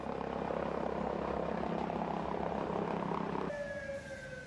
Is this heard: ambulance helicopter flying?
yes